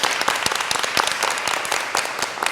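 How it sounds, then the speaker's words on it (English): Audience applause after an introduction of a fabric company co-founder, a dense wash of many hands clapping with sharper individual claps poking through, steady and fairly close throughout. "let's give her a big round of applause"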